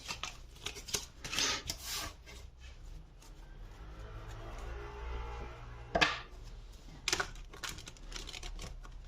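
A deck of tarot cards being shuffled close by: soft rubbing and riffling bursts come in short clusters near the start and again near the end, over a quiet background with no talking.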